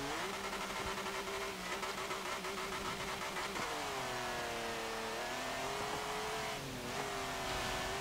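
A 1939 BMW 328 tuned to nearly 1,000 horsepower, driven in Forza Motorsport 7, revs hard and continuously in third gear with rising and falling engine pitch, struggling for traction, loud and steady throughout.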